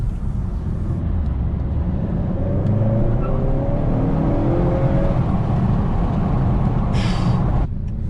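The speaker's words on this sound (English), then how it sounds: "as soon as you tap the gas full throttle, you're literally right into full peak torque" A Honda Accord Sport turbo car accelerating hard at full throttle, a loud, steady engine drone with rising harmonic tones building over several seconds, heard from inside the cabin, ending with a brief hiss near the end.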